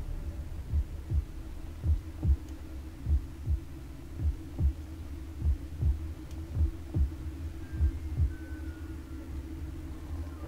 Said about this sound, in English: Where is that goddamn heartbeat coming from?